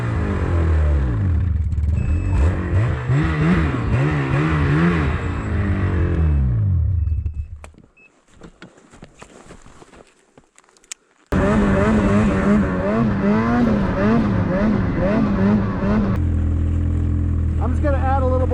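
A Ski-Doo snowmobile engine revs loudly nearby while towing a broken-down red sled in the snow, its pitch rising and falling, dropping to near quiet midway before roaring back, with people talking over it.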